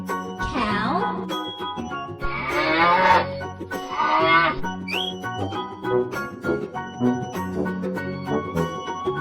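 A cow moos in a few drawn-out calls over a cheerful music bed with jingling bell tones, the lowing loud and close.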